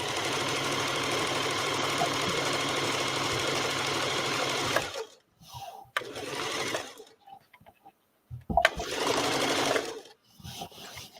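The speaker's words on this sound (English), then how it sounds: "I'm not discouraged about my Husqvarna. I'm more excited because it still is throwing down a stitch" A Husqvarna sewing machine stitching, a loud continuous mechanical whirr for about five seconds, then several shorter bursts separated by pauses.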